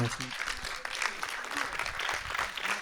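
Audience applause after a French cinema screening event thanking hosts, a steady wash of clapping with voices talking over it throughout.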